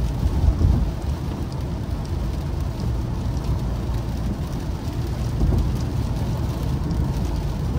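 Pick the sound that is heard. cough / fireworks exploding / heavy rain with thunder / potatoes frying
heavy rain with thunder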